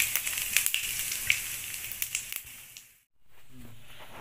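Whole spices (bay leaf, a dried red chilli, cinnamon, cloves, cardamom and cumin) crackle in hot oil for a Hyderabadi-style Bengali mutton kosha, giving sharp close pops over a steady sizzle that briefly cuts out before resuming more softly.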